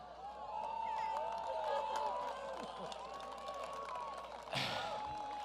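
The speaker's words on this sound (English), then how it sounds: "It sounds like the crowd likes it" A commencement crowd at the Edsel Ford High School 2018 graduation reacts with murmuring, scattered cheers and clapping, steady throughout, with a louder burst of noise near the end.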